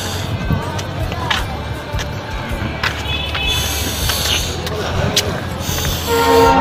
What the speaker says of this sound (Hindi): और ट्रेन आ चुका है शायद वही वाला